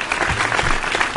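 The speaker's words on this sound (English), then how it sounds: "And we want a big round of applause from Kathy from New Hampshire" A studio audience applauds steadily on a financial call-in radio show, a dense, even wash of clapping that is near and loud from start to finish.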